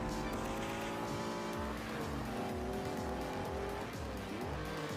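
A race car in Forza spins out, its tires skidding and squealing in repeated wavering screeches while the engine revs rise and fall loudly throughout.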